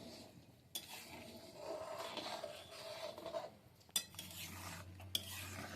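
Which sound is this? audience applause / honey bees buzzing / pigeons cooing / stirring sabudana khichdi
stirring sabudana khichdi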